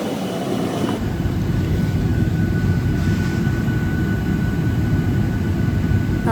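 Steady, loud roar of jet engines and rushing air inside a commercial airplane cabin during flight, a constant broadband drone with a faint high whine and no talking.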